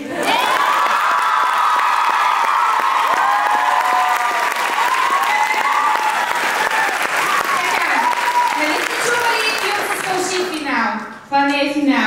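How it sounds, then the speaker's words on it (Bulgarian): A crowd at a street dance show claps continuously with shouts and whoops layered on top; near the end the clapping briefly dips before picking up again with a voice cutting in. "Моля, аплодисменти за мен!"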